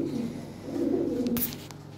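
Lahori pigeons coo in a steady low rolling murmur, fairly close and moderately loud, with a brief faint rustle near the end.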